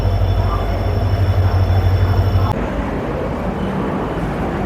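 The 12821 Dhauli Express from Howrah to Puri rumbles steadily on the rails, heard close from inside a carriage. A low hum and whine suddenly drop away partway through, leaving the running clatter alone.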